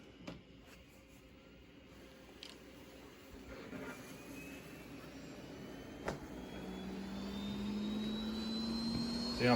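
A Bissell Spinwave robot vacuum and mop runs with its bristles spinning, giving a steady whirring motor hum with a thin whine that rises gradually and grows slightly louder, with no voices.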